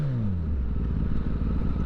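A Kawasaki Ninja ZX10R motorcycle revs up close, its engine note climbing in pitch, then settling into a loud, rough, rapid burble over a couple of seconds.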